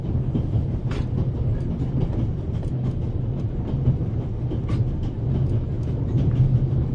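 A train running, heard from inside a carriage: a steady, loud low rumble with a continuous hiss and occasional faint clicks of the wheels, and no voices.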